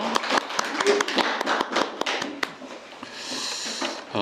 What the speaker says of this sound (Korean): 우리 서로를 위해서 우리 좀 서로 쳐다보면서 네, 한번 박수 한번 주시고